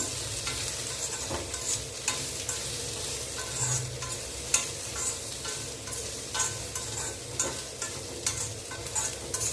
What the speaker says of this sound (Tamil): சிம்மில் வச்சு வறுத்துக்கிறீங்க